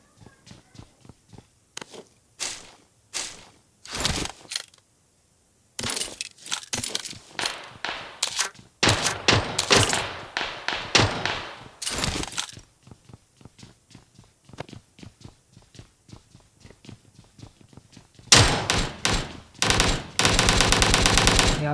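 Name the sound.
gunfire from bots fighting in a video game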